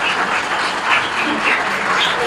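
Audience applause at a tribute gathering, loud continuous clapping from a crowd that swells and fades in waves without a break.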